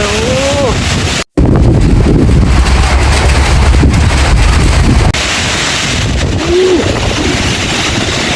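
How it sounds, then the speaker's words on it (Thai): Strong wind roars into the microphone during a rainstorm in Non Sung district, buffeting loudly and continuously with a brief dropout, while a voice calls out briefly. "ลมแรงมาก"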